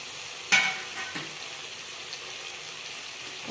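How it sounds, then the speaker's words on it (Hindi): Chopped tomato and chili drop into a hot pan for a drumstick flower curry, giving a sudden splash followed by a low, steady sizzle and faint stirring. "अभी इस पे जो कटा हुआ टमाटर मिर्चा रखे थे उसको डाल देंगे"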